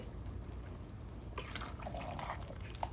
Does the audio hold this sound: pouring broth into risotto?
yes